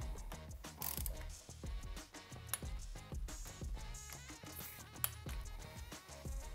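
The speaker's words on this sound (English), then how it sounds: "we're going to want to torque those bolts down to 5" A torque wrench clicks through rapid ratcheting strokes as power valve bolts are tightened to 5 foot-pounds on a Beta 300 RR enduro motorcycle. The sharp mechanical clicks repeat closely, with a couple of louder snaps.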